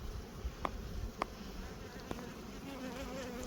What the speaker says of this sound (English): It's got a good amount of bees